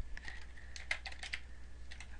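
Quiet, close computer keyboard typing of a spreadsheet function: a quick run of soft, uneven key clicks over low background hum, with no talking.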